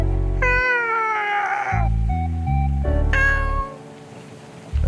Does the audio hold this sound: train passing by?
no